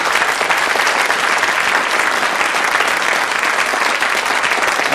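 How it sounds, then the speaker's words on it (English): A studio audience at a radio comedy panel show claps steadily and loudly for the winners, a dense, even wash of applause with no voices over it. "Round of applause for them, please."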